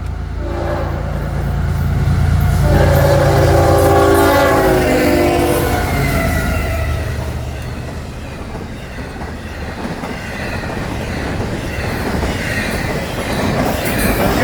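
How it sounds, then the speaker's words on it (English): A northbound FEC freight train passes a grade crossing: a loud horn blast, then a steady rumble of cars with clattering wheels and some squeal, sustained throughout. "All right, here comes the first train."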